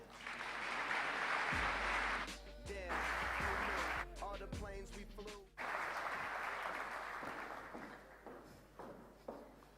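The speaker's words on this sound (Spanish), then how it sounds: "La recibimos con un fuerte aplauso." An audience at a civil engineering lecture applauds to welcome a speaker, a loud burst of clapping that fades within a few seconds, followed by someone speaking into a microphone.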